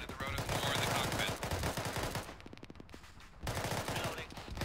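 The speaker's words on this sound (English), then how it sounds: "Make sure you shoot at the rotors or the cockpit." Rapid bursts of automatic gunfire in a video game firing at helicopter rotors, loud and dense with a short pause mid-way before the shooting resumes.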